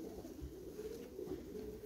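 Pigeons cooing steadily in a loft of young racing pigeons, a low continuous murmur of soft, overlapping coos close by with no voices.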